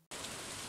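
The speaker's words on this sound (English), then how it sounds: "Ah, what a beautiful, beautiful rainy day." Rain falls in the farming video game Stardew Valley: a steady, dense, hissing patter that starts abruptly and continues evenly, soft and even in level.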